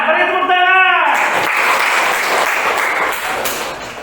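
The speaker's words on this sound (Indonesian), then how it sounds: "Beri tepuk tangan." A classroom of students claps for a presenting group, a voice trailing off before dense, close clapping takes over and continues steadily to the end.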